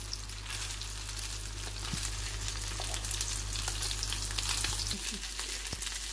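Rice samami kebabs frying in oil in a pan, a steady dense sizzle and crackle throughout with faint occasional clicks, close and constant, with no one talking.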